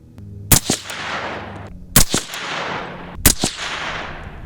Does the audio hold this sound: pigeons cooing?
no